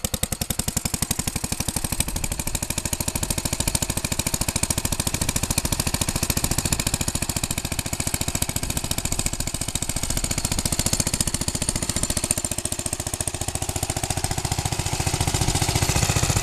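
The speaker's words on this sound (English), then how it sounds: "1930 Shaw dual garden tractor" Briggs and Stratton engine on a 1930 Shaw Do-All garden tractor, running close up with a fast, loud, steady single-cylinder chatter, a rapid even firing rhythm that holds throughout with no talk.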